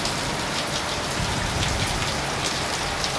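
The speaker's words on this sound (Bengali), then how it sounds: "বৃষ্টি হচ্ছে।" Steady rain falling and pattering on surfaces, a dense, even hiss with no voices.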